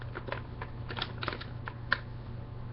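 Paper being folded and creased into a paper airplane, heard as soft, quiet crisp taps and creasing clicks scattered irregularly over a low steady background hum.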